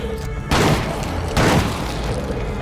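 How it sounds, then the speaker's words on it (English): Gunfire in the zombie survival game State of Decay 2 comes as two heavy, booming blasts about a second apart, each with a thick low-end thump and a rumbling tail that lingers between shots. "the gunshots themselves are pretty ferocious sounding"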